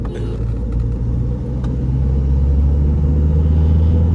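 A Ford Endeavour 3.2 and a Mahindra XUV500 accelerate side by side in a drag race, a loud steady engine rumble building continuously at close range with no pauses.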